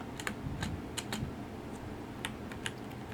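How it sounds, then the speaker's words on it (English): Computer keyboard arrow keys pressed during a Space Engineers game: a scattered series of light, quick clicks, some in pairs, close and clear over a soft steady background hum. "Arrow keys help a little bit."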